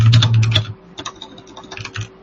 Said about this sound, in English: Somebody's typing to find out.